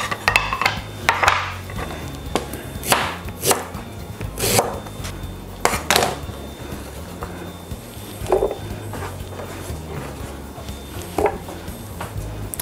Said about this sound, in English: at this point, I'm going to cut my ginger